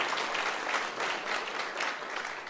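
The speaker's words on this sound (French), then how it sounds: "on peut l'applaudir bien sûr" Steady audience applause at a French political campaign meeting, a dense patter of many hands clapping at moderate distance, continuous for a couple of seconds with no voices on top.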